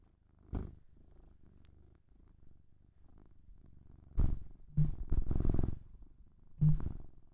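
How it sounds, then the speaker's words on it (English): A cat purrs softly close by, a faint continuous rumble broken by a few louder bursts of nearby handling noise. "Can you hear the purr?"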